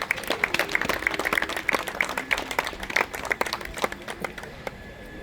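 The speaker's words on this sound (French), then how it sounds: "Applaudissez très fort pour eux." Guests applaud the couple at a civil wedding ceremony in Gombe, a steady patter of many hands with distinct sharp individual claps throughout, moderately loud and fairly close, slowly thinning toward the end.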